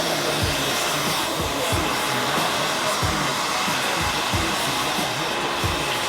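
Hair dryer running steadily while blow-drying hair during a cut and styling, a constant loud whooshing hum throughout with soft brushing strokes repeating underneath.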